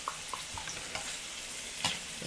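Browned meatballs dropped into a pot of homemade Sunday gravy, giving close sizzling and bubbling with a few soft plops and stirring knocks, and a slightly louder splash near the end. No one speaks.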